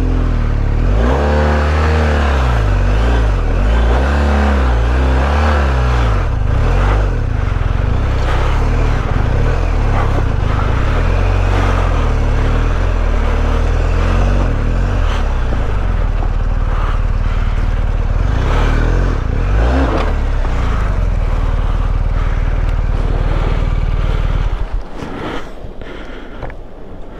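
BMW GS 1250 motorcycle engine revving hard and repeatedly while the bike is hauled out of a river, loud and close throughout, with rushing water noise beneath, before cutting off near the end.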